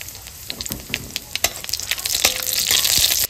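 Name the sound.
dry red chillies and nigella seeds tempering in hot oil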